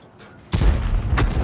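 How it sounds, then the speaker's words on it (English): A 105 leFH18B2 self-propelled artillery gun firing a single round in World of Tanks: one loud, deep boom after brief quiet, trailing into a rumbling decay. "Oh, he fired 1 round on a manual aim."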